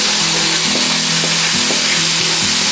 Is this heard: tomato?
yes